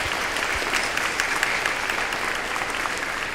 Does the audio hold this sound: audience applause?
yes